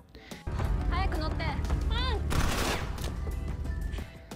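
Gunfire from the Alice in Borderland drama, a dense rattling barrage of shots with a loud sudden onset, running continuously under a voice that speaks over it.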